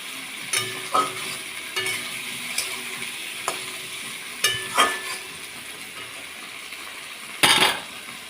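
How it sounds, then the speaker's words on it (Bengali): Fish, potato and eggplant fry in a pan with a little spice, giving a soft steady sizzle broken by irregular scrapes and clinks of a spoon against the metal, with one louder clatter near the end. "অল্প একটু মশলাতে ভেজে তারপর জল তুলে দেবো"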